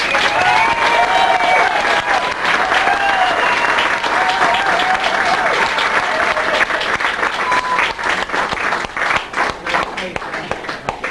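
Loud applause fills a hall at Ron Williams' 80th birthday celebration, a dense, steady wash of clapping from a large audience with faint cheering and voices mixed in, tapering slightly toward the end.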